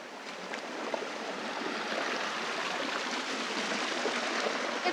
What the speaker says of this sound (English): let me show you how we measure the water flowing over this small dam.